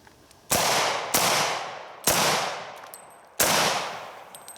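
Four loud, sharp gunshots from a Kimber Ultra RCP II .45 pistol crack at an irregular pace outdoors, each followed by a short decaying echo.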